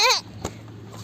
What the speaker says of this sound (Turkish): Gel aa koyunlara bak.